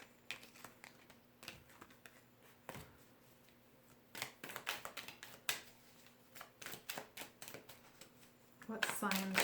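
Rapid papery riffling in short bursts, with taps and snaps between, as oracle cards are shuffled close by, with someone speaking softly underneath.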